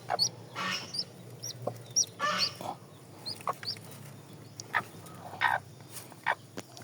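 A broody hen with a newly hatched chick clucks and squawks in short, irregular bursts, fairly close, with quiet gaps between calls and no talking.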